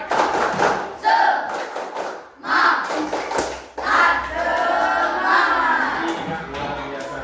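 In a classroom lesson, children chant a rhythmic tepuk semangat routine together, their voices punctuated by group hand claps and thumps in short, energetic bursts.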